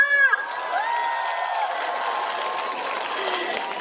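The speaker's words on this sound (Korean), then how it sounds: "좋은 박수 한번 주세요!" A crowd applauds and cheers steadily at an outdoor festival after a brief shout, the clapping sustained and fairly loud throughout.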